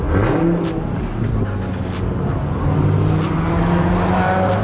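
A Dodge Hellcat muscle car drives past on a street in Dallas, its engine roaring loud and steady with a swelling rumble that rises and falls as it goes by, and nobody talking over it.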